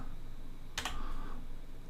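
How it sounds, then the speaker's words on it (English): A single quick keystroke clack on a computer keyboard, a Shift-and-Enter press, close and crisp against a quiet room hum. "So what you want to do is hit Shift, okay, and enter, and you'll be on the new line."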